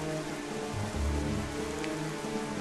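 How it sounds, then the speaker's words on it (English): Steady rain pours down in The Legend of Zelda: The Wind Waker, a dense even hiss with low rumbling beneath, continuous and fairly loud throughout. "And it's going to be raining the whole time."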